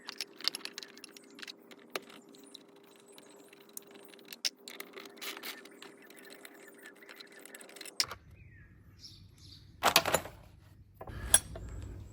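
Metal 12mm sockets clink and rattle as they are handled while panniers are fitted to a Honda NX500 motorcycle, scattered light jangling taps near and fairly quiet, with a few sharper clacks toward the end.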